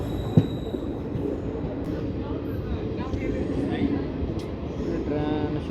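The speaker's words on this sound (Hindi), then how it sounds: "अपनी सब्जी मंडी की तरफ मुड़ गई ट्रेन" The Delhi Fazilka Intercity Express rumbles along the rails with a steady low roar and faint clatter of wheels, heard close from on board with brief sharper knocks.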